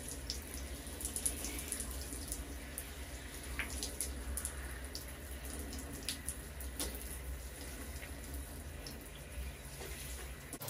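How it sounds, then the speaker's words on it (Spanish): A home shower runs with a steady, quiet hiss of falling water, continuous and unbroken with no voices. "me voy a meter en la ducha y pues nada, que me voy a duchar."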